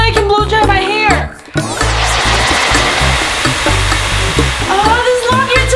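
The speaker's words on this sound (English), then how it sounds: "Finally, I can blow dry my hair." Hair dryer blowing long hair, a loud continuous rushing whoosh close by that holds steadily throughout, with a brief dip in the airflow near the start and music playing underneath.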